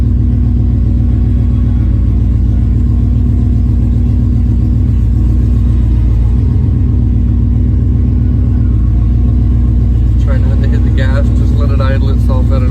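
A loud van engine with a damaged, free-flowing exhaust rumbles heavily in gear, a deep steady drone close up, with someone speaking over it and a brief higher whine near the end.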